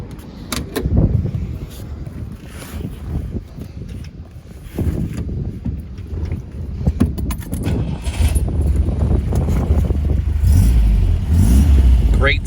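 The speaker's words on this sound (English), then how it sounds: "Let me start this engine up for you." 1973 MGB roadster engine cranking and catching, then settling into a low rumbling idle that grows steadier and louder, with clicks and mechanical clatter early on.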